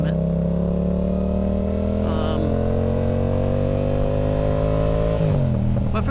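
Motorcycle cruising on a highway above 90, a loud steady engine drone with smooth pitch shifts and steady wind rush, close and continuous throughout.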